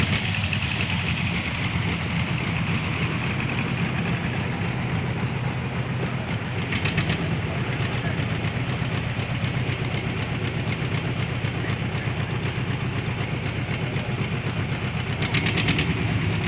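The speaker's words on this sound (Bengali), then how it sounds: "ট্রলারটি খুবই আস্তে চালিয়ে ঘুরিয়ে নিচ্ছে" A fishing trawler's heavy engine chugs at a slow, steady idle as the boat turns, its deep rumble continuous and close, with no voices.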